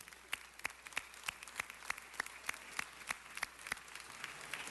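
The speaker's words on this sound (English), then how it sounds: "And let's give them all a huge round of applause." Applause from the audience at a Los Angeles city council meeting: a steady run of crisp, evenly spaced claps over a low room hum, moderately close and continuing throughout.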